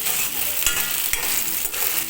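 Onions and green chillies stirred while frying in a pan for a fish curry, with a steady close sizzle throughout and a couple of sharp utensil scrapes.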